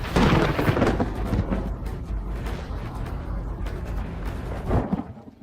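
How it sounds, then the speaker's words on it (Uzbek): Heavy rain pours down during a thunderstorm with tornado risk, a loud roaring downpour with deep rumbling thunder that swells at the start and again near the end before fading. "Yomg'ir juda ham qattiq yog'yapti."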